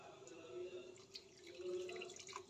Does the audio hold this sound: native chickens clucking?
no